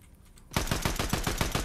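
Automatic gunfire from a Fortnite in-game weapon with a thermal attachment and heavy recoil, erupting after a quiet start into a loud, rapid burst of evenly spaced shots.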